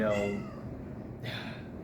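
A fat cat meows close by, two clear cries with a quiet pause between them and the start of a third at the very end.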